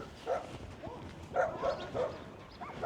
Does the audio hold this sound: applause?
no